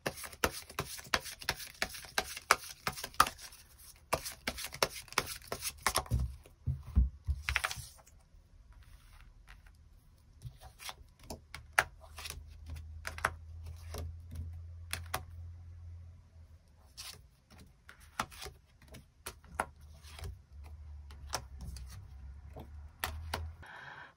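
Tarot cards being drawn and laid out for a love reading, with crisp close clicks and taps that come thickly at first, then sparser, over a soft low hum.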